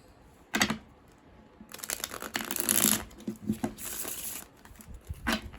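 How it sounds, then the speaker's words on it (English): A deck of flimsy tarot cards is shuffled by hand in several quick bursts of papery riffling and slapping, close and crisp, with short quiet gaps between them. "One more good shuffle."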